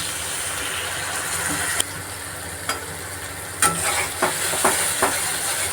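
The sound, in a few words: spice masala being fried and stirred for chicken curry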